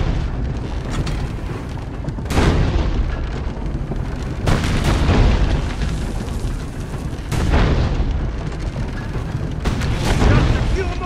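Four heavy cannon blasts from a tank in Assassin's Creed Brotherhood boom out at steady intervals of roughly two to three seconds, each loud and booming with a rumbling tail, over a continuous low background.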